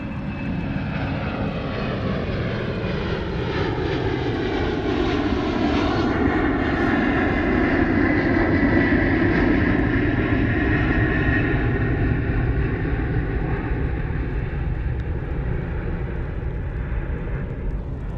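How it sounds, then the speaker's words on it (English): An airplane engine roars during a steep climb, a loud continuous droning heard from inside the cabin, its pitch shifting gradually through the climb and holding steady with no talk. "this airplane is doing this massive climb"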